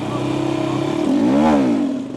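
A motorcycle engine revs hard from a standstill as the clutch is let out, the pitch swelling up and falling back during a wheelie launch, loud and close with no talk over it.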